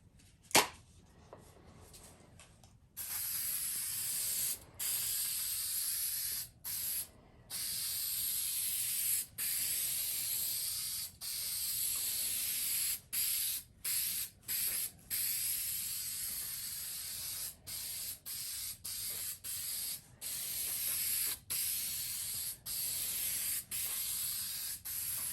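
Continuous broad hiss of a spray can applying adhesive inside a truck camper ceiling during polystyrene and fabric insulation work, close and steady with short pauses between bursts, no talking.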